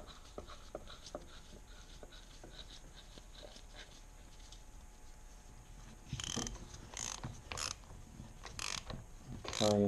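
A bolt being screwed into the clutch of a Kawasaki ZR1100 Zephyr motorcycle, faint ticking and scraping at first, then several louder ratcheting and metallic bursts in the last few seconds, close and alone.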